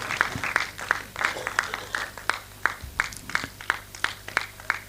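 Audience applause at an event honouring guests, a steady patter of claps with sharp individual hand strikes, moderately close and unaccompanied by talk.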